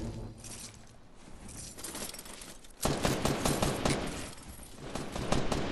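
Rapid gunfire from players fighting in a video game, a dense burst of shots that starts partway through and keeps rattling steadily to the end, fairly close and with no talk over it.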